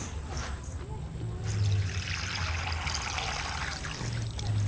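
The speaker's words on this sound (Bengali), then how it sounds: "চালটাকে এইভাবে জল দিয়ে 2-3 বার জল চেঞ্জ করে ফেলে দেব।" Water trickles and splashes over about a kilo of biryani rice being washed in a bowl, a steady running pour that swells midway, with some faint background voices.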